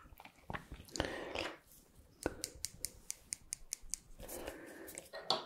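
Scissors snip near the ear in a home dentist roleplay, a rapid run of crisp clicks after a few slower cuts, with soft rustling and breathy whisper-like sounds between.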